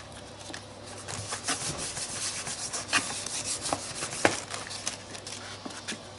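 Something is rubbed through a stencil onto a journal page, making a close, continuous scratchy friction with quick uneven strokes and occasional sharper scrapes.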